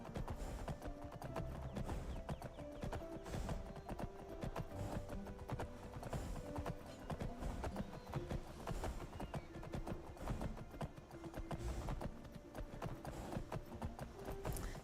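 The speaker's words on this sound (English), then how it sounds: "I just stole a horse." Horse hooves clip-clop in the video game Skyrim as a stolen palomino is ridden, a continuous rapid rhythmic patter of steps under game music, fairly faint throughout.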